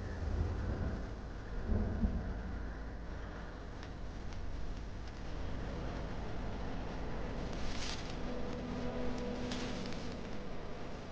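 Thunder rumbles low and sustained as a rainstorm approaches in an animated fantasy scene, with a steady rain hiss underneath and a few brighter crackling swells near the end.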